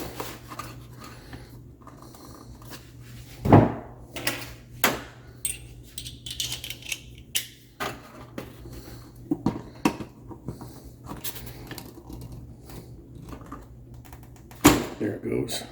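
A hose is pried off a water cooler dispenser with scattered clicks, knocks and plastic scrapes, a few sharp snaps standing out among irregular handling noises, up close and fairly quiet, with talk now and then.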